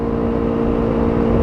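A Yamaha R25 motorcycle cruising along a road home from Ciamis to Banjar, its engine giving a steady, continuous mid-pitched drone with constant wind and road rumble, close and loud throughout.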